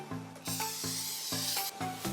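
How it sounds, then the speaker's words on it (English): Cooking oil sprayed into a saucepan while preparing chocolate cake batter: a few short, close hissing bursts with brief pauses between them, over a soft musical background. "First, spray with oil."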